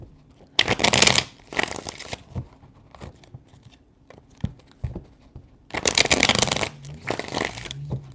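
Tarot cards shuffled by hand in bursts of crisp riffling, two quick rounds early, a quieter stretch of soft handling, then two more loud riffles near the end, close and with no talking.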